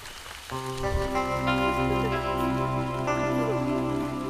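Heavy rain pours down as a steady wash of noise in a Hindi-dubbed South Indian action film, under loud sustained musical tones that dominate throughout.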